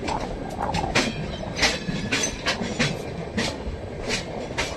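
A train rumbles along a curving track with rhythmic clacking and occasional bright metallic squeals from the wheels, loud and close, no voices.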